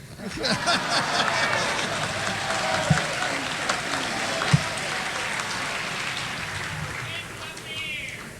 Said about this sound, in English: if you'll join me in a round of applause